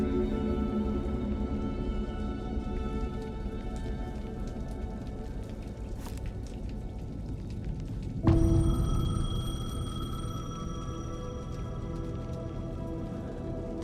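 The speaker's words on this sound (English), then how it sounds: "The payphone was ringing." A payphone rings in the video game Alan Wake 2, a steady electronic ringing heard against continuous rain on surfaces. A sharper ring tone enters partway through and carries on to the end.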